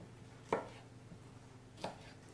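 Two crisp, isolated knife thunks on a cutting board as vegetables are chopped into chunks for a roast medley, about a second apart, close and fairly quiet against a low background hum.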